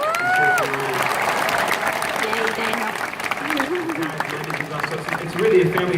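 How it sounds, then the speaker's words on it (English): Audience applause follows an introduction of a world-class touring musician, moderately loud and steady, mixed with crowd noise and some voices talking over it. "Would you give him a round of applause?"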